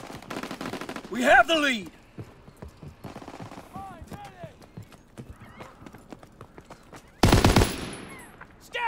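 WWII-era weapons fire in Call of Duty: WWII multiplayer in two loud bursts amid horse hooves, whinnies and battlefield clatter, with voices calling out between them.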